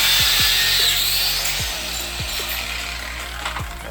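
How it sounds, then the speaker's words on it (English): Power tool tightening rose bushings on steering rods, heard as a steady loud whir with several short ratcheting bursts repeating throughout, close up and with no talking. "All I'm doing now is tightening down these rose bushings so they don't slide around on us."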